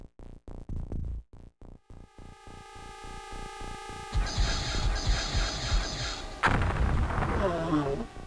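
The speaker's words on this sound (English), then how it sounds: "so I'll send the missile this way" In the DOS original of X-Com: UFO Defense, a guided missile launches and explodes: a run of short, loud electronic pulses gives way to a building rushing roar, then a heavy blast with a noisy rumbling tail.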